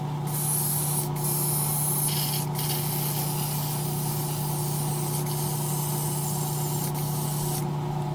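An airbrush sprays paint into a waterfall spray booth, a steady close hiss over the booth's constant low hum and rushing water, with brief breaks in the spray.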